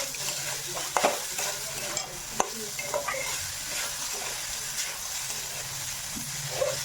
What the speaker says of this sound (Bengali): আমি এখন নারকেলটা ভেজে নিব। দিয়ে দিব, আমি চিনি দিয়ে ভেজে নিব।